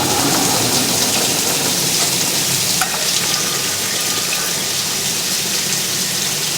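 Water rushes steadily into Whirlpool and Maytag washing machines filling with cold water for the rinse, a loud, constant hissing gush that stays even throughout with no talking.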